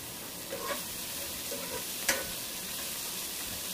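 Sliced onion fries in a pan for vegetable dum biryani, giving a steady soft sizzle with a few light stirring scrapes and one sharp clink near the middle, with no voices.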